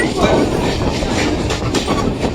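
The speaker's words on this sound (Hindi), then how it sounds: "ये देखो guys on the time departure करते हुए घुटियारी शरीफ रेलवे स्टेशन से।" A local train on the Canning–Sealdah line pulls out of Ghutiari Sharif railway station with a loud, close, steady rumble and clattering wheel noise that goes on without a break.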